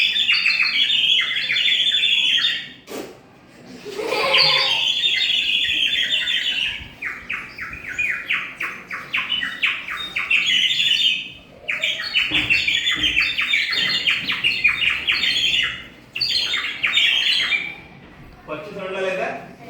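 A cheap water-filled toy bird whistle, sold as a talking bird, warbles in shrill, rapid trilling chirps in repeated bursts with short pauses, close and loud.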